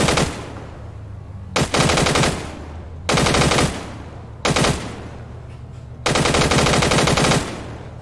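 Machine gun fire in ArmA 3 comes in four loud, rapid bursts of about a second each, separated by short pauses over a low background rumble.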